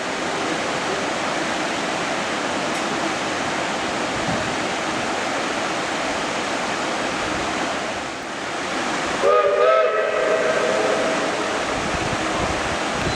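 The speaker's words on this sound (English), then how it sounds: "That's the official we're going whistle" A short, far-off steam locomotive whistle sounds near the end over steady rushing noise that resembles water or hissing steam.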